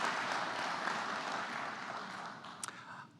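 An audience at a university faculty and staff convocation gives a short, moderately faint round of applause, an even wash of clapping that fades slightly toward the end.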